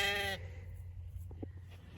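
A single drawn-out Katahdin sheep bleat opens the clip, close and clear, then fades into low steady wind-like rumble.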